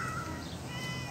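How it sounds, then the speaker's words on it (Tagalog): A cat on a farm gives one drawn-out meow close by, heard over steady background noise. "Ito yung mga pusa dito, si Muningning"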